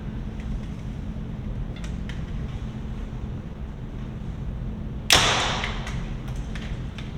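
A Gold Tip Hunter arrow, 400 spine and just under 400 grains, is loosed from a 2024 Mathews LIFT bow with one sharp, close snap and thud that fades quickly over a steady low wind and hum, with no talking.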